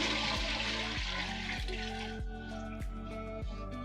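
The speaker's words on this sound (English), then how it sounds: "And get rid of the water from our water bath." Water from a cheesecake water bath pours out and drains, a steady rushing, splashing flow with repeated low thuds and clanks of the pan, close and fairly loud throughout with no talking.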